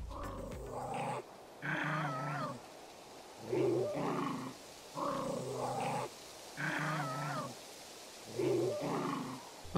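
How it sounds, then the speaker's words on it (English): Kitsune fox mount in Assassin's Creed Valhalla making a series of six short growling, yipping calls at a steady pace, each with a brief pause between, fairly close and clear with no talking. "let's hear what does the fox say."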